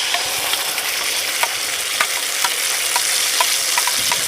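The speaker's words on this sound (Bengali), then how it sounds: "প্রথমে এই ফোড়নটাকে একটু ভেজে নেব।" Whole cumin and spices temper in hot oil in a pan, giving a steady, loud, close sizzle with faint crackles and the occasional stir, and no voices.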